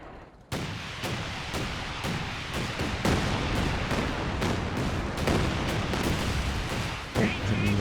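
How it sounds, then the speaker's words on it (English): A close, near-minimum-range artillery barrage in Company of Heroes 2, with heavy thudding impacts landing in rapid succession over several seconds, loud and dense after a sudden onset, shells striking around a building. "So now we're going to go for like a close to min range kind of barrage."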